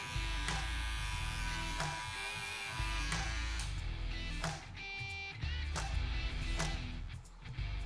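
Wahl Senior electric hair clipper fitted with a fade blade, cutting hair for a flat top: a steady close buzz running throughout with small shifts in pitch and loudness as it passes over the head, no talking.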